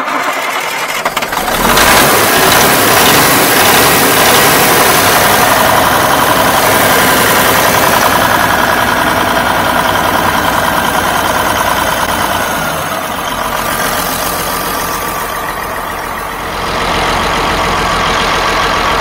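An old, long-neglected Western Star truck engine cranks briefly, catches and fires, then settles into a loud, steady diesel idle that runs close by for the rest of the clip, with no talk.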